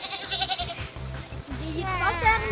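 A goat bleats close by with a wavering cry near the end, while adults and a toddler talk over a busy background at a petting-farm setting.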